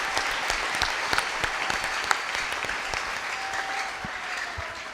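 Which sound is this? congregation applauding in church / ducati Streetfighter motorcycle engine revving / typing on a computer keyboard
congregation applauding in church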